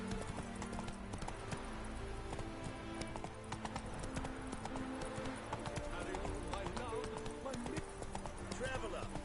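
Hooves of Roach, a horse in The Witcher 3 video game, gallop in a fast steady clip-clop that runs throughout, mixed with busy game ambience and music.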